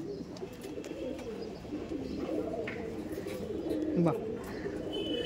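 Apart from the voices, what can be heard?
pigeons cooing at a Giribaj pigeon market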